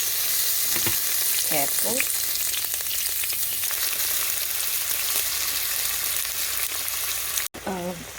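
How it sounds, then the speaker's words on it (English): Slit green chilies fry in hot oil among spluttering mustard seeds, a loud, dense continuous sizzle with a few crackling pops and a brief spoken word near the end. "Okay, I'm going to add the green chilies."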